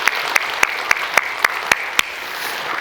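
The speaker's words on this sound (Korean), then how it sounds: "우리 박수로 하나님께 영광을 돌립시다." A church congregation claps together in a steady, even rhythm: eight sharp, evenly spaced beats, then the clapping stops and leaves a roomy background hum.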